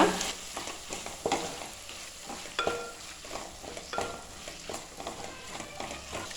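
Chopped tomatoes being stirred into sautéed onions in a pan for a Kerala-style vegetable biryani, with repeated scraping strokes over a steady close sizzle and no voices.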